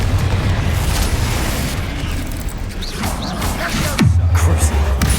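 A Confringo blasting spell explodes in the video game Hogwarts Legacy, with loud, continuous booming and crackling blasts amid dense combat noise, and a low rumbling burst near the end.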